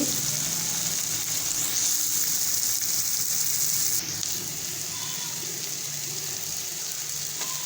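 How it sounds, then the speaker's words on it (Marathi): Onions sautéing in a pan for a spicy onion chutney give off a continuous close hiss of frying, steady throughout and slightly softer in the second half. No voices are heard. "हे पहा एकदा आपण हे कांदा परतून घेऊ"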